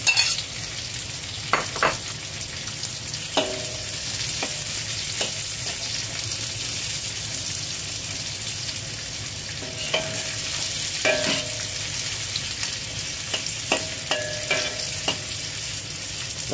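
Garlic is added to shallots stir-frying in a wok, giving a steady soft sizzle broken by scattered scraping and clinking of a utensil against the pan.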